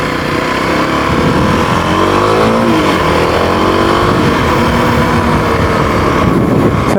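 A cheap second-hand six-speed motorcycle engine idling and revving close by, a loud steady drone that rises and falls in pitch with throttle blips, alone without talk.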